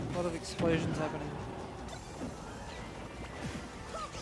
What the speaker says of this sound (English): A lot of explosions happening.